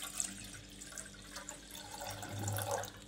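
Water poured into a heavy cooking pot, a quiet splashing trickle that swells slightly toward the end, heard close and alone.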